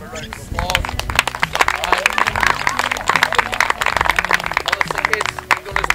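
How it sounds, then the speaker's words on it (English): A group clapping for the kids at an outdoor camping trip, a close, dense round of applause lasting several seconds, with some voices mixed in. "so let's give them a round of applause"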